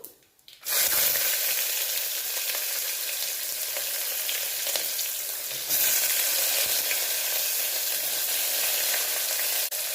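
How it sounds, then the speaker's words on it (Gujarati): Onions hit hot oil with asafoetida and spices for khichdi, bursting into a loud, dense sizzle after a brief quiet start and frying steadily and close for the rest, with a slight surge partway through. "હવે આપણે સૌથી પહેલાં ડુંગળી એડ કરીશું"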